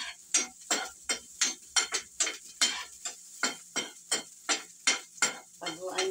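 A utensil scrapes around a pan of egg soup in quick regular strokes, about two per second, each a sharp close scrape over a faint background with no talking.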